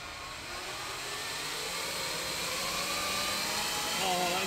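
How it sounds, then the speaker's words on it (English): Small drone flying on conventional propellers, an even, smooth whirring hum with a faint high whine that grows slightly louder, close by and steady. "Last attempt with conventional propellers. Oh, it sounds so smooth."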